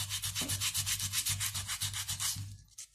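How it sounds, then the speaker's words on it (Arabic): Sandpaper rubbed by hand over dried wood filler on a wooden surface, a steady rhythmic scratching of repeated back-and-forth strokes, close and fairly loud, alone with no talking, easing off at the very end. "أول حاجة أنت عندك أي نوع صنفرة، هتبدأ تصنفر اللي أنت"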